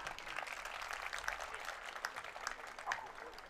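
Applause from an audience at a Swachh Bharat Abhiyan peace march programme: dense, steady clapping from many hands fills the whole stretch at moderate loudness, with no voices standing out.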